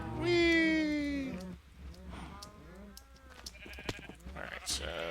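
Sheep in the Minecraft video game bleat, first with a long, loud, wavering bleat and then with shorter, quieter bleats, alongside other game sounds.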